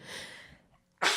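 A single sharp sneeze bursts out suddenly and close, after a short stretch of soft breathy sound and a brief pause.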